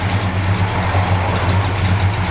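Steady, close idle of a 1969 Dodge Charger V8 with a small exhaust collector gasket leak, a low even rumble with a faint ticking edge.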